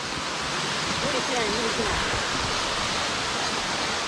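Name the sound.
waterfall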